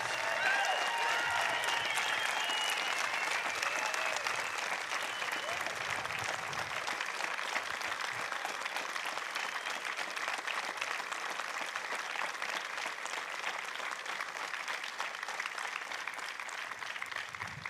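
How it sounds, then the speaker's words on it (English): Sustained, dense applause from a convocation crowd honouring graduates at Trent University, an even roar of many hands clapping that holds steady for nearly eighteen seconds with faint voices mixed in. "Could we have a round of applause thanking the graduates?"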